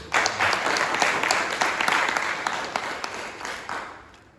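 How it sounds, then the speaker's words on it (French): A church congregation claps loudly and steadily in an energetic burst of many hands, with sharp individual claps standing out before the sound gradually fades. "Applaudissez très fort le Seigneur"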